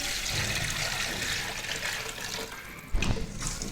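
Measured water is poured into a cooking pot of fried potatoes for potato pulao, a steady close rush of liquid with a louder splash near the end and no talk.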